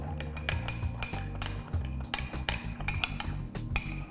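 A spoon clinks and scrapes against a bowl while chicken macaroni salad is mixed with salt and white pepper, a busy run of close metallic taps and knocks, no talk.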